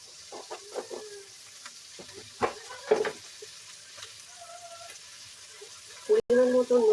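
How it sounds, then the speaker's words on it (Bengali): Onion frying in a pan gives soft, intermittent sizzling and stirring scrapes, fairly quiet, with a sharper burst of sizzle near the end as more is added; a person talks at moments. "পেঁয়াজটা ভাজা ভাজা হবে"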